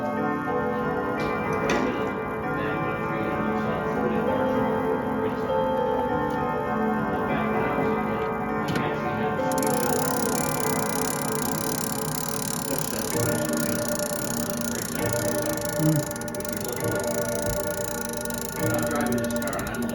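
A Whittington chime clock in a repair shop ticks steadily and then rings out its hour chime, with bright bell tones layered over the continuous mechanical ticking, close and clear with no talking.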